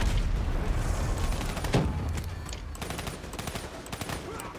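A grenade explodes during a co-op firefight in Singapore in Call of Duty: Black Ops III. A booming blast comes about midway, set in a dense mix of gunfire and clatter that carries on throughout.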